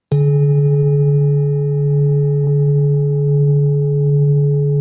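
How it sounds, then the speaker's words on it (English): A large singing bowl struck once with a felt mallet rings out with a deep, steady hum and clear overtones. The loud, sustained tone carries unbroken and alone for several seconds. "this produces more of the masculine or lower tones when you strike it with the felt mallet"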